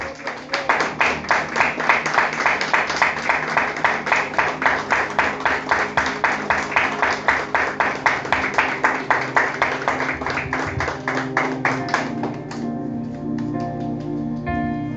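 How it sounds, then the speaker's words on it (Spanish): A church congregation claps for the Lord in a steady, rhythmic unison beat, loud and close, continuing for about twelve seconds before fading as music carries on beneath. "Dale un fuerte aplauso al Señor"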